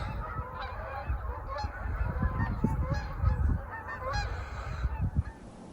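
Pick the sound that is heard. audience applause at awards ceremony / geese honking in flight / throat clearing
geese honking in flight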